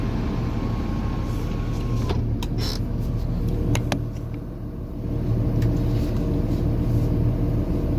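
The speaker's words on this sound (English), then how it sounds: "Let me just get this window up." A car's electric power window motor whines steadily for about two seconds as the glass is raised, over a constant low engine rumble inside the cabin, followed by a few faint clicks and knocks.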